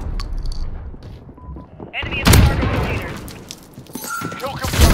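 Shotgun blasts and other gunfire in the Modern Warfare video game, a few loud booming shots mixed with game effects, with a player talking over the action.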